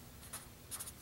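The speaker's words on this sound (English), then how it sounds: "So let's go ahead and write out" Pen or pencil writing on paper during an elementary math lesson, two brief scratchy strokes, quiet and close.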